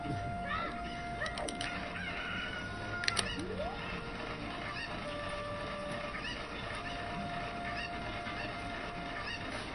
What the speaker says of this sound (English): I need this chicken to activate a glitch off of it